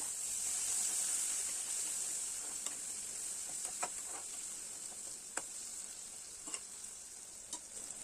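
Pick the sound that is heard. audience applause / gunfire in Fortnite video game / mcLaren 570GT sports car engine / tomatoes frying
tomatoes frying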